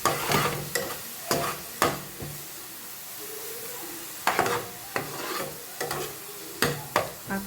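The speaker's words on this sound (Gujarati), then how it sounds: "મિક્સ કરી લઈએ મસાલો." A spoon stirs turmeric, coriander-cumin powder and salt into a hot pan in repeated sharp scraping strokes over a faint sizzle, close and alone without speech.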